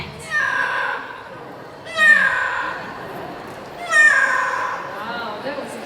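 A parrot at a bird show imitates a cat's meow, giving three clear, drawn-out meows about two seconds apart, close to the microphone.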